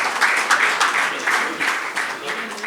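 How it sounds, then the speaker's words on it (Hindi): An audience applauding steadily at a Hindi poetry recital, a dense wash of clapping that stays loud throughout with slight rhythmic swells. "ज़ोरदार तालियां"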